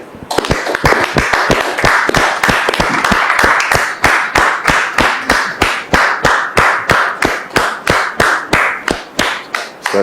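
An audience claps in a fast, steady rhythm of sharp, loud, close hand claps that keep going without a break, with no talking.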